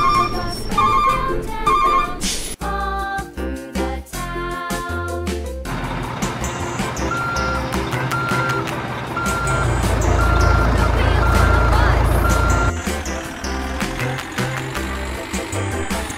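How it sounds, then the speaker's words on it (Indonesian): Tow truck reversing beeps, steady repeated tones over a loud diesel engine rumble, with music-like clutter and a heavier engine surge in the middle, near a crashed Pertamina tanker truck in a ditch. "Untung saja, truk derek segera membantunya,"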